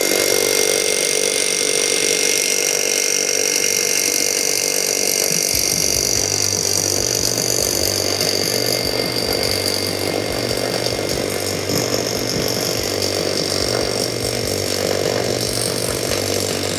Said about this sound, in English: We're gonna drill 10 inches deep.